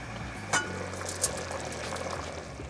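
Shrimp rice simmers in a pot on the stove, giving a close, continuous bubbling and gurgling with a couple of brief sharp pops and no voices.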